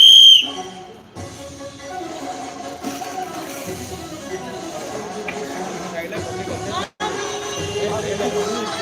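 A sharp, high whistle blast at the very start of a game, followed by a busy room of children chattering and moving about.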